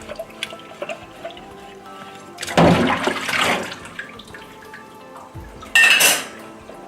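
Dishes are washed up by hand in a sink with soapnut washing-up liquid: water runs and splashes while plates, cutlery and pots clink and scrape, with louder surges of running water, close and busy.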